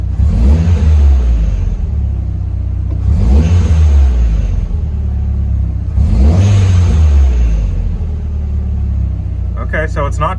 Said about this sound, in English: So we're gonna step the throttle and see what it does.